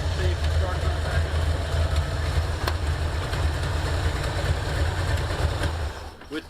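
A 1984 Ford Mustang Fox-body engine idles steadily with a loud, low rumble that runs without a break, then cuts off near the end.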